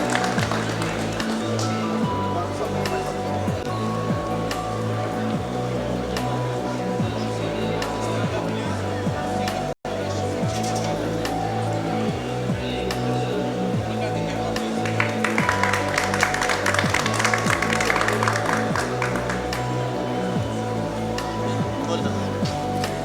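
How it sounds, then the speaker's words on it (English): Audience applause filling a hall at the Etisalat Gitex 2016 event, a dense, continuous wash of clapping sustained for over twenty seconds, with a voice over a loudspeaker and music beneath. "A big round of applause, please."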